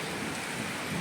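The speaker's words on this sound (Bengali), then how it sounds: "আর এদিকে তো বৃষ্টি হচ্ছে" Heavy rain pouring down in a steady, dense, unbroken hiss, moderately loud and with no voices, for a short stretch.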